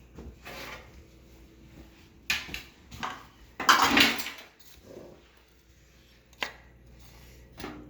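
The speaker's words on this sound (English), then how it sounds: "We're going to drop these onto a cookie sheet." Spoonfuls of pumpkin cookie dough dropped onto a large cookie sheet in a home kitchen, giving a few soft thuds and scrapes with one louder clatter of the pan midway, set among quiet kitchen handling noises.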